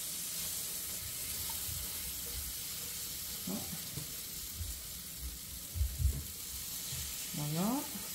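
Gluten-free batter of purple carrot and cheddar sizzles quietly in a hot waffle iron, a faint steady hiss with soft knocks and a short rising electronic tone near the end.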